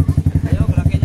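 Motorcycle engine idling or puttering close by with a rapid, regular pulsing throb and a faint clatter, short and fairly loud.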